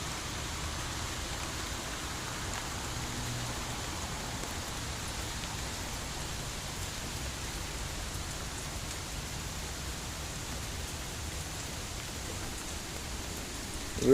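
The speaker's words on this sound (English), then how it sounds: "A lot of rain today, I know." Steady rain falls on a stormy day, a constant dense hiss of drops on surfaces at even loudness throughout, with no voices.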